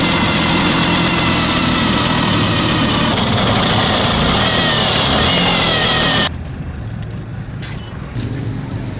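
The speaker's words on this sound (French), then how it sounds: "Il est 9 h ce samedi lorsque Théophile, à bord de sa Vespa, arrive dans ce garage 6 au quartier d'Assasgo pour faire inspecter sa moto" A 150 cc Italian Vespa scooter engine idles loudly and steadily up close in a garage, a dense constant rumble that drops off sharply near the end, leaving quieter background noise.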